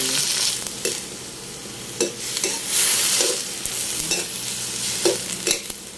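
Vegetables sauté with garlic in a pan while cooking a students' lunch, giving a steady sizzle broken by repeated scraping stirs of a utensil at close range.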